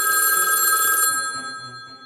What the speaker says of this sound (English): we heard the phone ring.